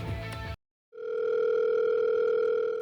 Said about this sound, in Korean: 나은이 지금 집에 있으면 나은이 전화해가지고